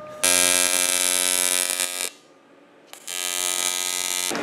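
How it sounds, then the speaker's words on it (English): A welder runs a bead on a Moto Guzzi motorcycle part, making a loud, steady electric buzz that cuts off briefly after about two seconds and then resumes, close up and with no talking. "So, I've run a little bead here."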